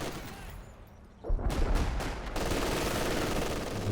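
Machine gun fire rattles in Company of Heroes 2, a World War II strategy game, in a steady sustained burst after a quieter opening, mixed with other battle noise at moderate volume.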